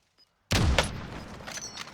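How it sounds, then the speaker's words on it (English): A burst of gunfire in Call of Duty Warzone erupts after a brief quiet, a loud close blast followed by sustained rattling fire and echoing booms that continue to the end. "he's taking fire."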